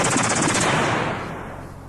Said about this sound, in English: Right, machine guns, shall we?